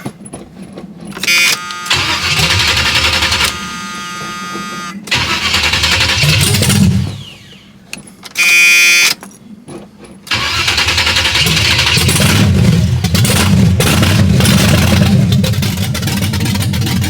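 A 1978 Chevrolet Malibu Classic with a cold engine cranks loudly in several separate bursts, catches briefly, then fires and settles into a steady, rough idle up close for the rest of the clip.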